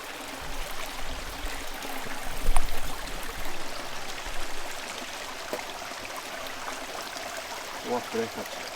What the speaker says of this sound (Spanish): Esto, por ejemplo, es un manantial que nunca se seca.